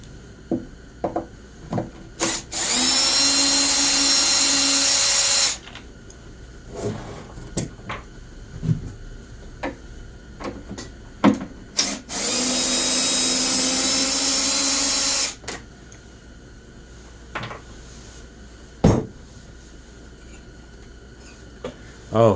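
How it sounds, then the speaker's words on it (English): A power driver unscrews bolts from the cover of a Stihl BR 600 backpack blower in two whirring runs of about three seconds each, with scattered clicks and handling knocks between them at close range. "we're going to remove this bolt and this bolt down here, and that'll take off the cover so we can access the valves"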